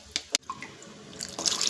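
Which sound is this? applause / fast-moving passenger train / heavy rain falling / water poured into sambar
water poured into sambar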